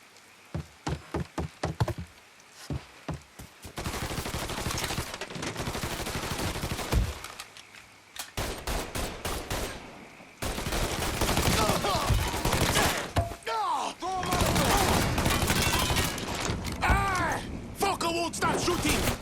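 Rapid bursts of video-game gunfire from a Mafia 3 shootout, sharp cracks and sustained volleys in clusters throughout, loud and close, with occasional voices in the mix.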